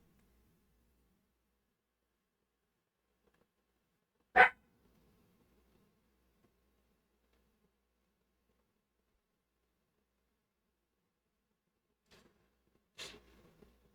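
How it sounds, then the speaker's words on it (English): A dog gives a single sharp bark in a quiet room, followed by a long silence and then another short, fainter bark, each bark isolated and brief. "He's just barking."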